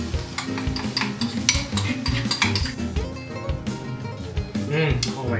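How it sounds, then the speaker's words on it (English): A sauce mixture for sweet, sour and spicy pad thai being whisked in a bowl, steady clinking and scraping strokes running close and continuous, with a voice talking over it. "You want to whisk it until you get a smooth mixture"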